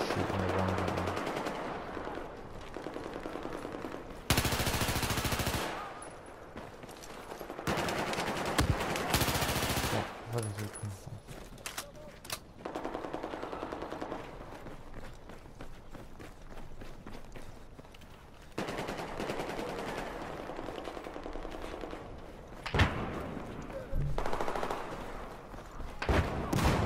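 Gunfire from a Battlefield 4 team deathmatch: repeated loud automatic bursts and single shots come in clusters at varying distances, with footstep-like movement between them and little talk.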